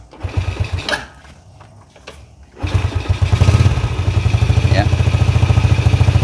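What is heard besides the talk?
Yamaha Jupiter Z motorcycle engine starting and idling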